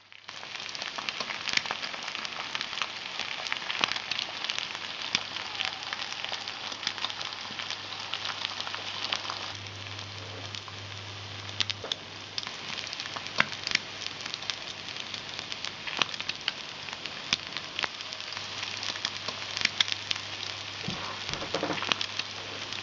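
Food sizzles and crackles steadily in a small metal mess tin, a dense spitting fry with scattered pops and an occasional low scraping knock.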